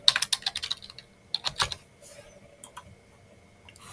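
Keys clatter on a computer keyboard while a folder is renamed, a quick burst of close, crisp keystrokes at the start followed by a few scattered taps and a pause, with no talking.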